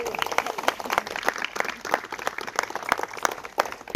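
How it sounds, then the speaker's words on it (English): Guests at a civil wedding ceremony at a lodge applaud the newly married couple, a lively burst of clapping from a modest crowd at close range. "please give these two a massive round of applause."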